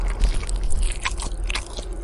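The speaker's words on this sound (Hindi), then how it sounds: "लग रहा था जैसे कोई तेज दांतों वाला जानवर हड्डियां चबा रहा हो।" Something like a sharp-toothed animal chews bones in a kitchen, a close run of crunching, scraping bites with irregular rhythm throughout.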